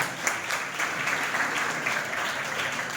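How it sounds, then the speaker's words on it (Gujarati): A college seminar audience applauding a student who spoke about wanting to help people, an even, continuous clapping from a large crowd that holds steady from start to finish with no speech. "તાળી વગાડો ભાઈ એમના માટે."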